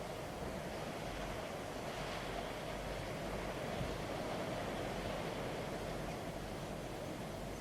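Atlantic surf breaks against a granite coast in a steady, dense roar of wash and spray, continuous and fairly loud with no talk over it.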